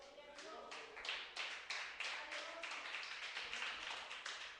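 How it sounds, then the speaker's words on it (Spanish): A church congregation claps in unison during a Spanish-language Saturday fasting service, a steady, fairly quick rhythm of hand claps that is rather faint and distant, with no talk over it. "Dele un fuerte aplauso al Señor."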